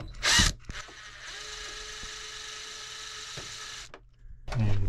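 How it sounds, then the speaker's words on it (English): A small power drill with an empty bit holder whirs steadily for a few seconds between brief clunks and handling noises at the start and end, during well water filter maintenance. "Now I've got a drill just with the empty bit holder."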